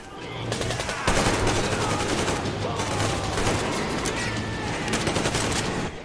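Enemy gunfire in a Metro video game, sustained rapid automatic shots rattling continuously for several seconds at close range, loud and dense with no talk over it.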